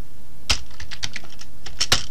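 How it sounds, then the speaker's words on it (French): Quick bursts of keystrokes on a computer keyboard while Windows 7 is typed into a search, several sharp clicks in a short irregular run, close and clear. "je vais taper Windows 7"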